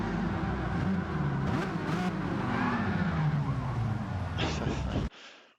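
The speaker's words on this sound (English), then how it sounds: "what you might see now is wheel spins, burnouts, crashings, all sorts of chaos" Renault Megane race cars do wheelspins and burnouts at a driving park, giving a loud, continuous roar of revving engines and tyre noise that cuts off abruptly near the end, with a commentator's voice underneath.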